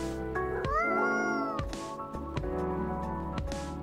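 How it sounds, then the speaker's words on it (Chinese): A cat character meowing in the video game Coffee Talk Episode 2: several clear, close, tonal meows, one long rising and falling call followed by shorter ones, over a faint steady background tone. "不会是真的猫吧？"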